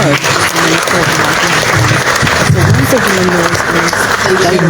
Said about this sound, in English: Shall we clap for the Honorable Minister?